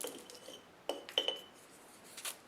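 Glass jar handled while making homemade deodorant, giving a few light clinks and taps, a cluster of sharp chinks near the middle and a softer one toward the end, quiet and close with no voices.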